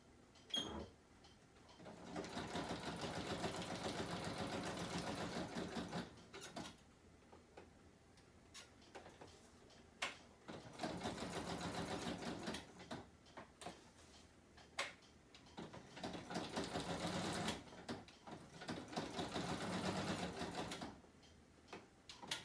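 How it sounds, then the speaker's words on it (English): A sewing machine runs in three long stitching bursts around a fabric label on a swatch tag, a fast steady mechanical patter close by, separated by short quiet pauses. "I just sewed around the label"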